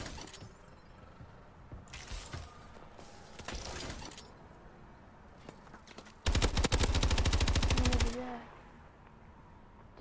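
Automatic weapon fire in the video game Call of Duty: Advanced Warfare, with scattered shots early on and then a loud, sustained rapid burst of about two seconds near the end.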